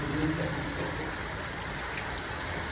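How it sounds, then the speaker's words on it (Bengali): Steady heavy rain with big drops pours down, a dense hiss of drops pattering on surfaces with no voices. "জোরে জোরে বৃষ্টি অনেক বড় বড় ফোটা দেখো"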